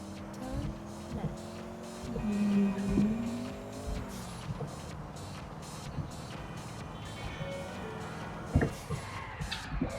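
A taxi speeding through the streets in GTA IV, its steady engine drone and shifting whine running throughout, with brief tyre squeals and a sharp knock near the end.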